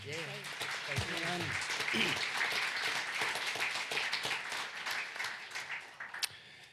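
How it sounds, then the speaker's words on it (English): A round of applause from an audience at a talk on preserving Australian Indigenous languages, steady moderate clapping that swells and then tapers off, with brief speech at the start. "I think that deserves a round of applause."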